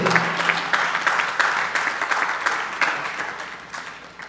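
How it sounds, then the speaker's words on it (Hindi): An audience at a talk on the Ramayana claps together, a continuous patter of many hands with repeated sharper bursts, fairly loud and close. "ताली बजा रहे हो"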